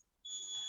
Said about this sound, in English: Yes, there is a beeping sound. That is cicadas